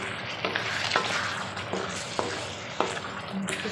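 Oil fries steadily in a pan before elephant foot yam is added for a chicken dish, a low even sizzle broken by several sharp spoon scrapes and clatters at irregular intervals.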